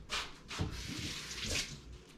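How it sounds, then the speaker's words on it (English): Tap water runs into a kitchen sink during hand washing, a steady broadband rush with a few louder splashes as hands move under the stream, close and alone. "I'm going to wash my hands"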